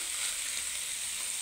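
Onion and garlic frying with ground pork in a pan, a steady close hiss of sizzling oil, even and unbroken throughout.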